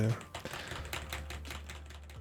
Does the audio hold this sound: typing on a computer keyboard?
yes